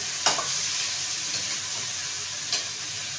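Bitter gourd (ampalaya) sizzling in a hot pan, cooked with oyster sauce: a steady, close frying hiss with a couple of brief stirring clatters.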